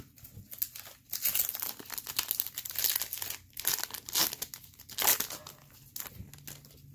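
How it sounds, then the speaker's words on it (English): Foil wrapper of a Chrome baseball trading card pack being ripped open, with close, busy crinkling and tearing bursts that continue steadily throughout. "Man, that bag like shredded apart."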